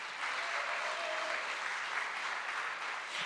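Audience applause for Black women entrepreneurs at a community marketplace event: steady, dense clapping from a crowd, continuous and fairly even throughout, with no voices over it.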